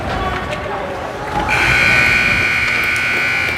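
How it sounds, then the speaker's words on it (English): A loud, sustained electronic final buzzer sounds midway at a youth ice hockey game and holds steady over a noisy arena crowd. "Final buzzer."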